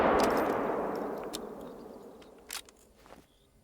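A single rifle shot fired while hunting in the video game Call of the Wild: one loud, close blast with a long decaying tail, then a few faint clicks of the reload action, no talk.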